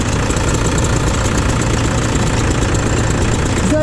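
A tractor engine runs steadily nearby during farm harvest work, a loud, continuous low rumble with a knocking, vibrating edge and no break or talking.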